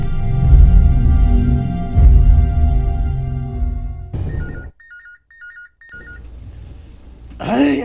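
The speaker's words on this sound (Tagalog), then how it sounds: "Ay, ang telepono, may bagting." A telephone rings in short, repeated electronic bursts after a louder stretch of voices and sound, then the ringing stops as another noise rises at the end.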